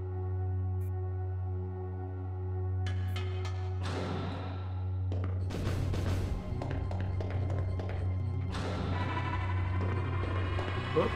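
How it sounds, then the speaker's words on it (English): Tile-generating sound in the Nintendo 64 game Hybrid Heaven: a sequence of electronic clanks, thumps and bursts over a steady droning background hum, with several sharp onsets building into a sustained chime-like tone. "that's the sound of a new generating tile."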